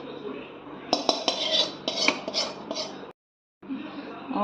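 Roasted grated coconut being scraped out of a pan into a bowl on a low gas flame, with close metallic clinks and scrapes of a spoon against the pan, followed by a brief silence and more clattering.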